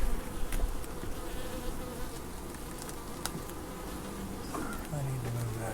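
Honey bees buzz steadily and densely at close range while a hive is opened for an inspection, a thick continuous drone with occasional louder passes near the microphone.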